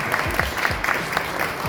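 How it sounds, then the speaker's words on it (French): Steady applause from an audience, a continuous patter of clapping throughout. "Un tonnerre d'applaudissements pour Sabrina Amenel."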